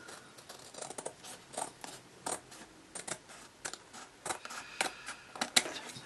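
Scissors snip around the edges of craft paper in a series of quiet, close, crisp cuts with short pauses between them, irregular in rhythm.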